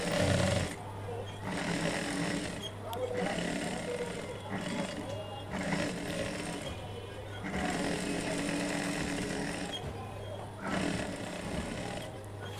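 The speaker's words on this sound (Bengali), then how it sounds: "এখন আমি আবারও একটি সেলাই দিয়ে দিচ্ছি ডাবল করে" A sewing machine double-stitches the lower seam of a pleated chos pajama, running in repeated short bursts with brief pauses between them, with some talk alongside.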